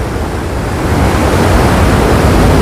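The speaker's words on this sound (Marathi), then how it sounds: "तुम्हाला पाण्याचा आवाज देखील येत असेल" Water at Paleshwar waterfall makes a steady, dense roar that stays loud and even throughout, with no voices over it.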